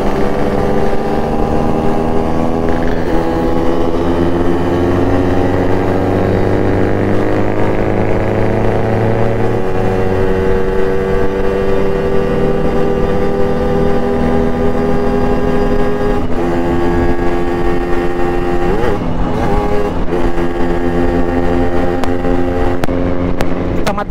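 Several two-stroke motorcycles, including Yamaha RX-King bikes, idle and rev together at a touring stop between Makassar and Kendari, a dense steady engine drone with rising and falling pitch that fills the whole stretch without any talk.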